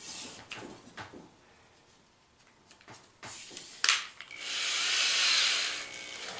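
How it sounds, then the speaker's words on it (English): A 3/8 drill spins a wooden shaft blank, giving a steady close whir that builds in the second half after scattered handling knocks and rubbing. "I take the blank and I insert it into a 3/8 drill."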